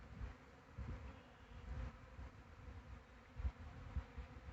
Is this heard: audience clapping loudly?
no